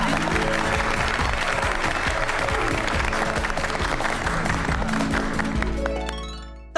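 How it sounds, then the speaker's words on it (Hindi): An audience applauds a woman invited onto a stage at a staged event in a Hindi TV comedy. The clapping is loud and steady over music with sustained tones, then fades near the end. "बबीता जी के लिए जोरदार तालियां"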